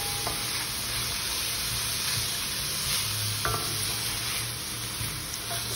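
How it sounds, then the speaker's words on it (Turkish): Sliced onion with green and red peppers sautéing in a pan, a steady soft sizzle running throughout with occasional scraping stirs and a light clink of a utensil against the pan. "1 adet jülyen doğranmış soğan, 2 adet yeşil biber, 1 adet kırmızı biberi de ilave edelim. Hepsini çok iyi bir şekilde kavuralım."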